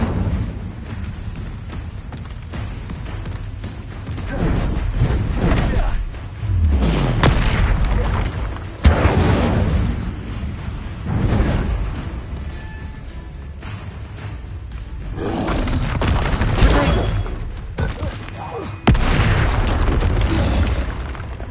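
Repeated booming fire-spell blasts from Incendio casts in the Hogwarts Legacy video game, several loud bursts spaced a few seconds apart with rumbling tails, with no talk over them.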